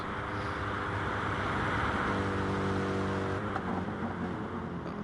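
Porsche race car at full throttle during an endurance race, a loud, sustained engine roar with strong harmonics, shifting slightly in pitch as it pulls hard, with no voices over it.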